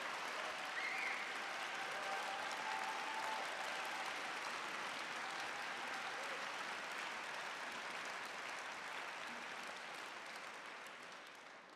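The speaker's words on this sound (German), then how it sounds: "Ich danke für euren Applaus" Sustained applause from a large audience at a party conference in Dresden fills the hall as a dense, even roar of clapping that stays loud and tapers slightly toward the end.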